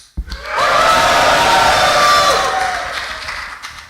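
A live audience at a leather show erupts in a loud sustained cheer with whoops and shouting, rising quickly and holding before fading off.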